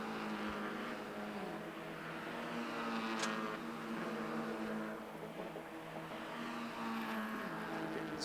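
Mazda MX-5 race cars circling Oulton Park in a championship race, engines droning steadily at a distance with a sustained tone that rises and falls as the cars pass.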